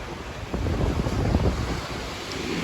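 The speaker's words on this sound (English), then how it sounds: "sit right up here, listen to the waves crash" Ocean waves crash onto an off-season Outer Banks beach, a broad continuous rumbling wash of surf mixed with strong wind buffeting the microphone.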